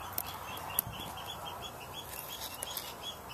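Just-fledged song thrush chicks at an allotment plot in May give faint, thin chirps against a steady outdoor background, with a few sharp call notes standing out.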